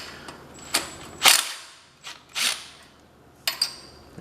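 Cylinder head bolts being loosened on a 1973 Kohler K301 engine with a hand tool, a series of sharp metallic cracks and ratchet clicks spaced irregularly, close and fairly quiet against a hushed background.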